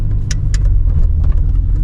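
Inside a 1991 Ford Fiesta RS Turbo on the move, its turbocharged engine gives a loud, steady low rumble with light rattles on top and no talking.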